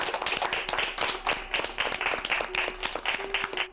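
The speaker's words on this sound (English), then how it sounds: "Please give yourselves a round of applause." Baking contestants on a TV cooking competition get a round of clapping in a studio. The claps come in quick, regular bursts at a moderate level, with a faint tonal hum underneath.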